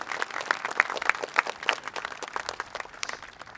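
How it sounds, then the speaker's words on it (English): Dense applause from an outdoor crowd at a Veterans Day ceremony at Mt. Soledad Memorial, steady rapid clapping that runs without a break for a few seconds with no voices over it. "Can I give, please, a round of applause for Jason?"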